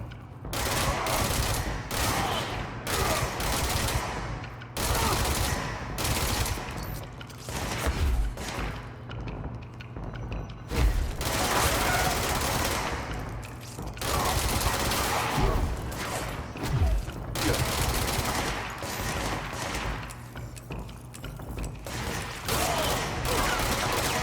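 Repeated bursts of gunfire from a weapon in the video game Control, dense rapid volleys with short gaps between them, loud and close throughout, with a steady low hum running beneath.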